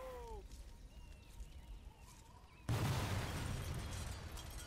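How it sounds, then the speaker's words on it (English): Sudden loud boom of a vehicle blowing up in the Sniper Elite 4 video game, a single broadband blast that cuts in midway and then rumbles on as a sustained roar. "I'll blow it up"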